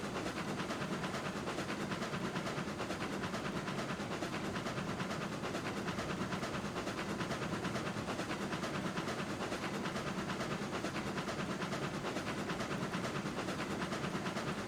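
Steam locomotive running in the train simulation game Railroads Online, a steady rumbling chug and hiss that holds at an even, moderate level throughout without pauses.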